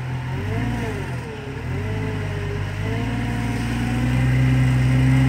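A Jeep Cherokee's engine labours while rock crawling, with a steady, loud mid-pitched drone whose pitch wavers up and down as the throttle shifts, then settles into a sustained higher rev near the end, with no voices.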